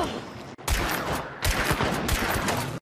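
Rifle fire from a Winfield Marksman in the shooter Hunt: Showdown, several sharp loud cracks in quick succession with echoing tails, close and dominant, with a voice briefly underneath.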